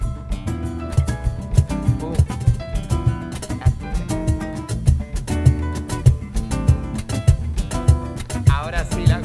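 Cajón played with flamenco music, the box giving dense, punchy low slaps and sharp accents in a driving rhythm, mixed with other instruments at steady, close volume.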